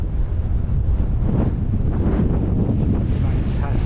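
Strong wind on a clear, chilly mountain summit roars steadily and loudly against the microphone, a constant low buffeting rumble with no talking.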